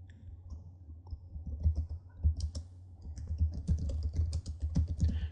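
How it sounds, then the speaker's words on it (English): Fast typing on a computer keyboard, close and clear, a steady run of crisp key clicks with brief pauses and louder strikes in the quiet. "I'm going to type in"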